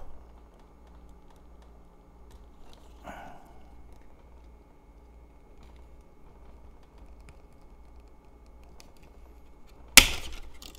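A single sharp crack near the end as a plastic roof snaps off a 1/24 scale Nissan Skyline 2000GT-R model kit car body, after a long quiet stretch with faint handling and a small scrape earlier.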